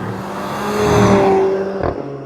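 A 2015 Mercedes-Benz CLA 45 AMG with the M133 AMG engine growls as it accelerates, a loud, throaty exhaust note rising and swelling before easing off, heard up close.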